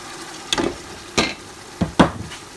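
Blended tomatoes and large pepper hitting hot oil in a pot for party jollof rice, with four loud bursts of sizzling and stirring scrapes spaced about half a second apart, close up.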